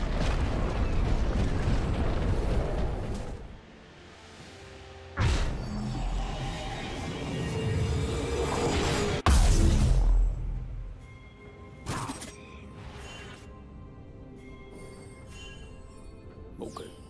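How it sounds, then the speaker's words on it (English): A League of Legends turret collapses in a burst of crashing, rumbling destruction, with several explosive hits and whooshes layered over busy game effects and music. "Blue team's turret has been destroyed."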